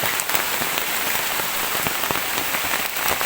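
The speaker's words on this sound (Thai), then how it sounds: "แม้ว่าฝนจะตกหนักมากนะครับนี่คือวิธีการ เอาตัวรอดในป่านะครับเพื่อนแม้ว่าฝนจะตกมากนะครับเพื่อน" Heavy rain pours steadily in a forest during a storm, a dense continuous hiss of drops hitting leaves and surfaces, loud and close with no pauses.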